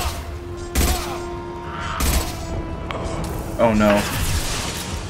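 Mass Effect 2 combat against Blue Suns mercenaries, with two sharp gunshots ringing out over steady background game noise, followed by a brief spoken exclamation.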